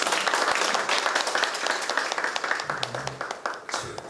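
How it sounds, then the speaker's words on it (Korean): Audience applause fills a policy forum on strengthening basic arts education in elementary, middle and high schools, a steady wash of clapping that thins toward the end with a few separate claps and a low voice briefly underneath. "다시 한번 박수 부탁드리겠습니다"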